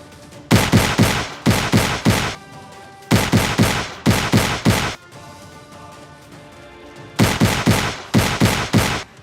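Loud, close bursts of rifle fire during Agniveer live-firing training, three or four sharp shots per burst in three evenly spaced volleys with quiet gaps and ringing echo between them.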